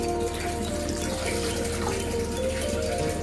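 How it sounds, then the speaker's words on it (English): Water being poured from a cup into a cooking pan holding blended paste for paneer lababdar gravy, a steady continuous splashing pour that runs the whole moment at close range with no talk. "I am adding 1 cup of water with it"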